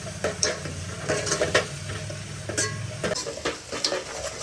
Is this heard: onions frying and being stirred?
yes